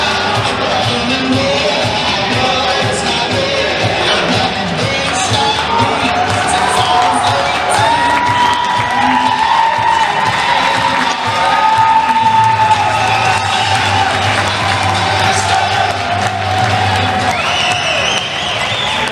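Spectators at a men's college volleyball match, North Greenville vs. Limestone, cheer and shout in a gym, a sustained crowd roar with scattered louder whoops.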